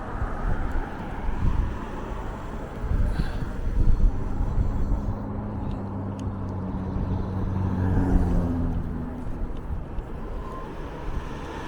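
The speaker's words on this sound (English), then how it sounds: "I'm just going to wait on the corner here and let these cars go by." Cars pass by on a slushy, snow-covered winter street, a continuous low rumble of tires and engines that swells and fades, mixed with steady wind buffeting the microphone.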